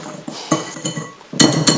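A utensil briskly stirs dry keto Yule log ingredients, including baking powder and xanthan gum, in a bowl, giving close scraping clinks in short uneven bursts with no talk.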